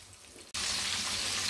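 Bone-in chicken pieces deep-frying in hot oil, a steady loud sizzle and crackle bursting in abruptly after a brief quieter stretch, with no voices.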